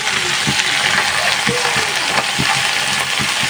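Desi bottle gourd leaves frying in a pan, a steady hissing sizzle close up with soft, irregular stirring knocks throughout and no voices.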